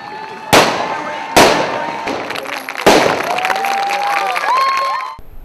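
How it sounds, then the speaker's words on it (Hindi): Loud gunfire bangs and explosions ring out during an Indian Army combat demonstration outdoors, three sharp blasts followed by sustained rumbling and whistling, with crowd noise in the background. "डेमो को शुरू होते ही पहले गोलियां चलने लगती है, फिर हमला होता है, धुआं उठता है"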